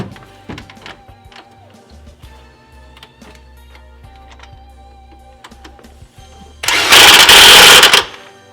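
A power tool tightens the alternator pulley nut on a Nissan 240SX S13 with an SR20DET engine, first quiet clicks and small tool sounds, then a loud buzzing impact-gun burst of about a second and a half near the end.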